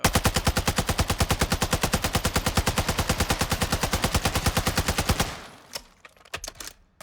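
An RPK machine gun fires a long full-auto burst in Warzone 2, a loud, rapid and steady stream of shots that stops abruptly and leaves a few scattered clicks and thuds.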